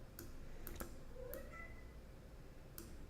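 A house cat gives a short, quiet meow indoors beside a live-streamed poker game, amid scattered keyboard and mouse clicks in a hushed room.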